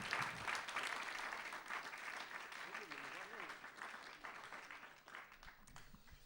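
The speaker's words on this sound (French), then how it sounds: "on peut l'applaudir encore une fois" A studio audience on a French television show gives sustained, even applause, with a voice talking over the clapping.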